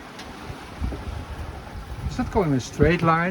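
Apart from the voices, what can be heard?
sailboat moving through ocean waves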